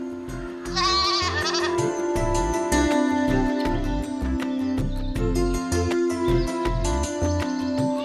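A goat bleats loudly and repeatedly at close range in a rural Bangladeshi setting, its wavering cries coming in quick succession over several seconds.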